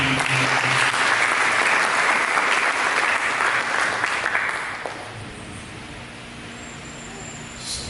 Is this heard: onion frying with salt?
no